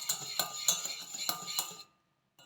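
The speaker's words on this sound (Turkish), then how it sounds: "Sütümü ilave etmeden önce yumurta sarımı bir karıştırmak istiyorum." A whisk or spoon clinks rhythmically against a saucepan while egg yolk is beaten, about half a dozen sharp metallic taps in quick succession, then silence.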